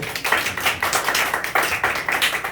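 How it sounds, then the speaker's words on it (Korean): A church youth group claps together in a rhythmic burst, the hand claps close and distinct, pulsing in quick regular beats across the whole stretch with no voices. "우리 박수 한번 쳐주고."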